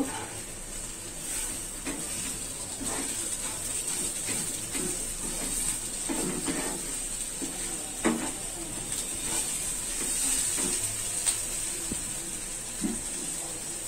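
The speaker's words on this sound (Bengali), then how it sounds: "এটাকেও আমি চিনির সাথেই ভেজে নিব" Grated coconut frying with sugar in a pan over medium-low heat, a steady soft sizzle and hiss with scattered scraping and stirring clicks throughout.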